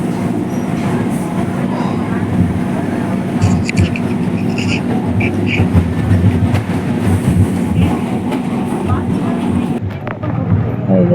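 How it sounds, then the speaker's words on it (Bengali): Inside a moving passenger train bound for Shantipur, a loud constant rumble carries rhythmic wheel clatter and some background voices, easing toward the end. "এতক্ষণে আমরা ট্রেনে উঠেছি শান্তিপুরের ট্রেনে উঠেছি"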